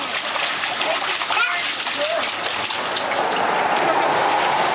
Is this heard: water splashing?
yes